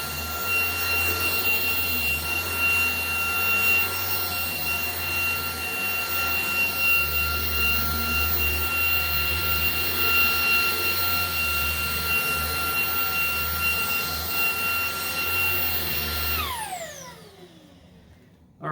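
A Maircle S3 Pro vacuum cleaner runs on high over a dog bed in a loud, steady whine, then switches off near the end and winds down quickly.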